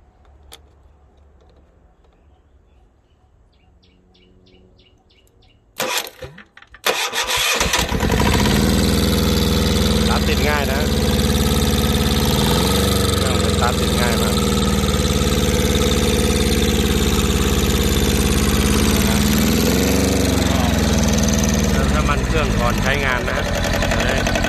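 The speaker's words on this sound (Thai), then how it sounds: "เอาโอเคลองดับเครื่องดูลองสตาร์ทดูอีกที" An old Japanese Yanmar two-cylinder diesel engine, converted for multipurpose farm use, sits quiet with faint ticking, then cranks and catches abruptly, settling into a loud, steady, throbbing idle that runs to the end.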